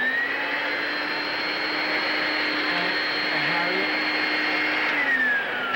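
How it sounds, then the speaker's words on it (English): A vacuum cleaner running over a rug indoors gives a steady, even whine with a high-pitched tonal hum, continuous from start to finish with no breaks. "will you get out of here so I can finish vacuuming the rug?"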